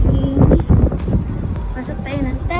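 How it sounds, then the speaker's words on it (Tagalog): Strong wind buffets the microphone in heavy low rumbling gusts while people talk nearby. "Grabe ang hangin, oh."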